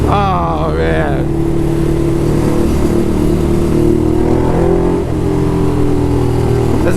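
A motorcycle crossing Queens Bridge keeps up a loud, steady engine drone that shifts pitch as the rider rolls through downshifts. A brief rising rev opens it, with wind rush throughout.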